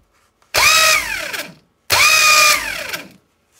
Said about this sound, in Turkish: Şimdi marş sinemosunun bobininin çalıştığını kontrol etmek için de artı kutbunu şu kısma değdiriyoruz.